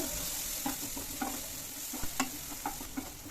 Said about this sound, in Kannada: ಸ್ವಲ್ಪ ಎಣ್ಣೆ ಹಾಕಿ ಈರುಳ್ಳಿ ಹಾಕಿ ಫ್ರೈ ಮಾಡಿ